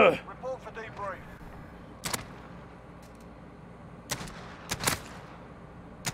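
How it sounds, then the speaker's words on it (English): Gunfire in an online shooter video game, a handful of sharp separate shots spaced irregularly, fairly close and punchy, mixed with talk and background game noise. "I shot him in the knee."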